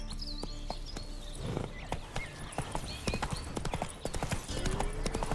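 A horse galloping in The Witcher 3, brisk clip-clopping hoofbeats close by, with a brief whinny and scattered game ambience layered over the rhythm.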